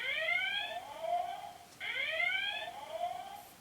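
Two electronic warbling tones from a Playmobil Star Trek Enterprise toy's dilithium removal sound, each a layered synthetic sweep that bends and wavers for about a second and a half, played back to back.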